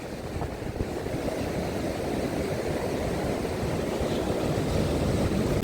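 Sea surf rolls steadily onto the Odesa shore on a December day, a continuous low wash of breaking waves mixed with wind rumble, unbroken and fairly distant, with no one talking.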